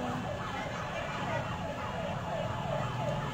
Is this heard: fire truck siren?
yes